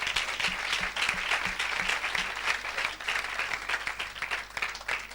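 Church congregation applauding during a service, a dense, steady wash of many hands clapping, loud and continuous, with a few voices calling out faintly underneath.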